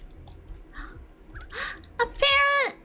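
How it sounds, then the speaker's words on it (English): A parrot in the video game Minecraft gives a short squawking call near the end, after a few fainter chirps, with soft background noise and murmured voices. "A parrot!"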